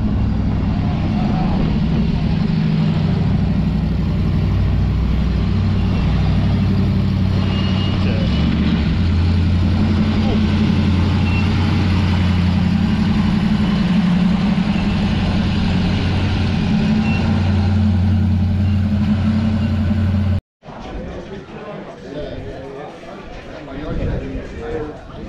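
A one-ton truck engine runs loud and close with a rod knock, a deep heavy rumble held steady for about twenty seconds before it cuts out abruptly; voices may be talking under it.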